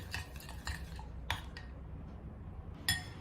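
Spoon stirring fudge ingredients with oil and honey in a bowl, with a few light clinks of utensil against the bowl over a soft, low kitchen background.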